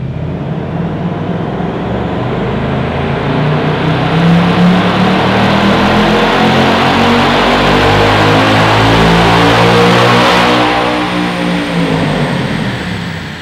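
A 2024 Ford Mustang Dark Horse with a Tremec manual transmission roars loudly on a dyno. The engine climbs through a long, sustained full-throttle pull, then the revs ease off near the end, with no talking.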